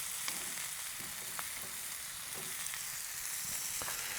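Beef fat and bone marrow sizzling in a giant wok over a grill, a steady dense crackling hiss with scattered small pops, constant and moderately quiet.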